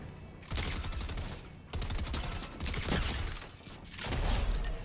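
Rapid bursts of automatic gunfire from a Fortnite match ring out in three or four long volleys separated by brief gaps, loud and dense, with no talking.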